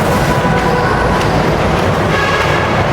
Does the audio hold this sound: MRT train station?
yes